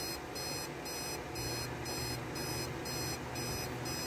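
Spartus 1113 Galaxy II alarm clock going off, a quiet pulsing electronic beep repeating about every half second over steady background hiss, with no talking.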